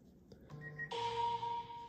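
A mobile phone rings indoors during a paint-by-numbers canvas session, its tonal electronic ringtone starting abruptly partway through and sustaining steadily at moderate volume over faint room sound.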